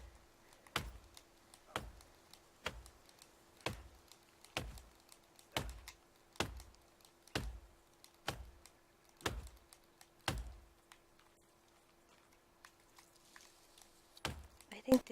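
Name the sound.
typing on computer keyboard while playing video game The Forest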